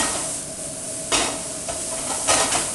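Lamb sautés in a hot pan with a soft, steady sizzle and hiss, broken by two brief scraping bursts as a wooden spoon stirs the meat.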